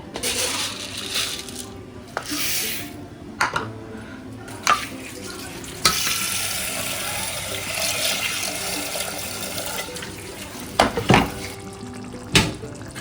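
Water pours steadily into a vessel to soak tarka dal lentils in a home kitchen, a rushing splash lasting several seconds between clinks and knocks of utensils.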